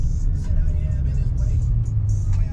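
A car pulls up at a Fuel City gas station, its engine a low steady rumble close by while a person speaks over it.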